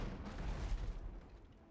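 Cannon and mortar fire from a ship in the Abandon Ship game, a dense run of low booming blasts that roll together over about two seconds and then fade, with no talking.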